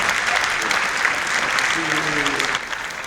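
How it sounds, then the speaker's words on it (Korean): An audience at a Korean speech contest for foreign speakers applauds steadily, a dense, loud wash of hand claps filling the hall that eases slightly near the end, with faint speech underneath. "16분한테 다시 한번 잘했다는 큰 박수로 좀 격려를 해주시면 고맙겠습니다"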